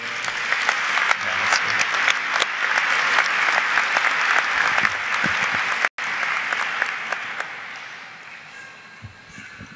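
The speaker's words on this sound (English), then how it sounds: "Could we just get a round of applause real quick for everybody?" Crowd at a high school graduation ceremony breaks into loud sustained applause, thick clapping that carries on for several seconds, briefly cut, then tapers off near the end; a voice is barely heard at one point.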